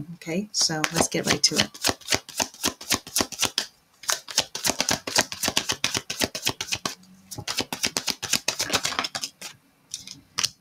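Tarot cards riffled and shuffled in rapid crisp bursts, close up, with a short pause midway and a brief spoken phrase near the start.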